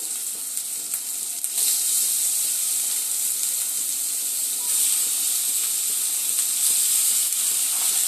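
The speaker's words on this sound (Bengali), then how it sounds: "তেল ছেড়ে দিয়েছে এবার আমি ধুয়ে রাখা চিকেনগুলোকে দিয়ে দেব" Washed chicken hits hot oil in a pan with Kashmiri chili powder, letting out a loud, continuous sizzle and hiss that swells in places and stays steady throughout.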